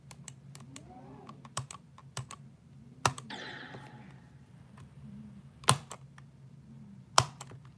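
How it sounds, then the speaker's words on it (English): Sharp, dry computer mouse clicks scattered irregularly over a low steady hum while playing Geometry Dash, some in quick pairs, with a brief whooshing game sound in the middle. "Can you hear my mouse clicks or not?"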